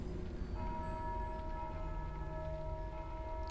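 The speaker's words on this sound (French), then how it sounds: "Eh mec, les cloches font péter un plomb." Bells ring in a video game, a sustained metallic tolling with steady overlapping tones that hold loud and close for the whole moment, no voices over them.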